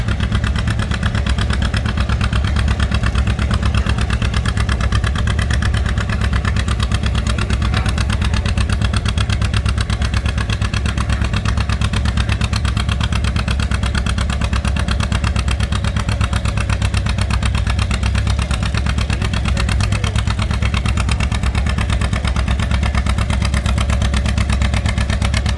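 An antique John Deere 60 "Johnny Popper" tractor engine thumps steadily and loudly at an antique tractor pull, its rapid two-cylinder popping continuous and close throughout with no talk.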